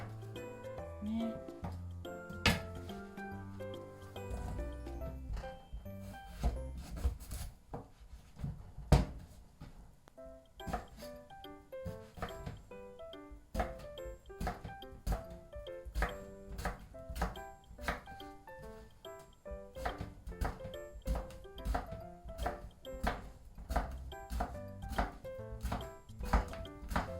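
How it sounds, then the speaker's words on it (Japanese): A knife cutting eggplant on a board, a long run of crisp, close chopping knocks at a roughly steady rhythm, sometimes clustered, with soft handling noises between strokes. "適当に切っていきます。"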